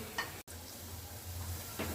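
Boondi fries quietly in oil with a low, steady sizzle and a few faint stirring scrapes.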